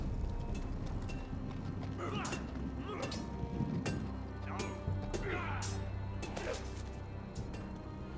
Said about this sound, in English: On a horse, no less.